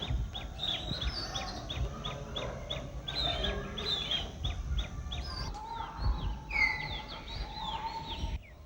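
Birds sing and chirp in green countryside, with repeated short whistled calls and trills rising over a soft background murmur, moderately near and steady throughout.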